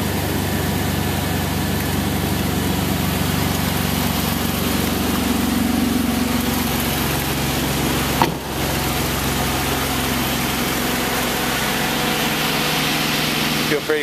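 A 2002 Dodge Dakota SLT truck engine idling steadily with an exhaust leak, a constant mid-loud rumble and hiss, with one short knock or bump partway through.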